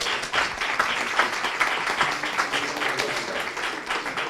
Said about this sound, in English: I would give you a round of applause,